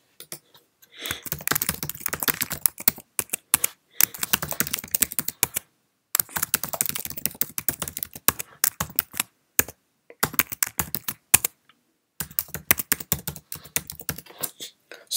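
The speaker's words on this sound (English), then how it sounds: "here we have some other personal information that I will type in" Keys clatter on a Mac computer keyboard in close, rapid bursts of typing separated by short pauses, with no talking.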